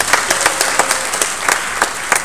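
A crowd at a graduation ceremony gives a continuous burst of dense, even applause, with sharper individual claps standing out through the steady roar.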